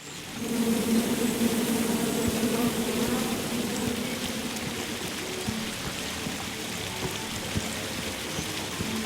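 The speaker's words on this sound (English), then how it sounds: "Come at me, bees!" Steady buzzing of bees in the King's Quest video game forms a continuous droning hum that stays level and fairly loud throughout, with no voices over it.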